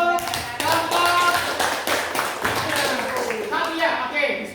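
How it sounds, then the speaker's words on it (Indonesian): A classroom of students claps for group one, quick irregular handclaps close by, with some voices talking over them. "beri tepuk tangan untuk kelompok"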